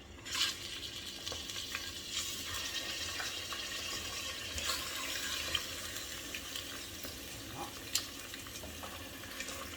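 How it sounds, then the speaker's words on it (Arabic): Chicken pieces frying in melted ghee and butter with a little oil, stirred steadily in the pan, with a continuous close sizzle and occasional scraping knocks, no talk. "بعد ما داب السمن مع الزبده نحطو طريفات الدجاج نقلبوهم"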